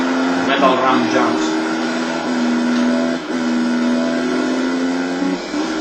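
A vehicle engine in the racing game MX vs ATV Untamed whines at a steady high pitch, dipping briefly and then holding its drone again, loud and continuous.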